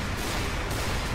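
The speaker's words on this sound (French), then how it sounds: "il a lancé tous ses tirs directement ciblés" A gunfire barrage in the Skibidi Toilet video game, dense and continuous blasts and booms filling a brief loud stretch with no pause.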